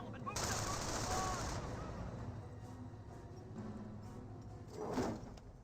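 MG42 machine gun fire in the Company of Heroes game: a loud sustained burst of rapid fire opens, then the battle settles into a quieter rumble before a further short burst near the end.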